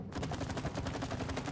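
Rapid gunfire in the It Takes Two video game, a quick rhythmic burst of repeated shots, fairly quiet and steady across the moment.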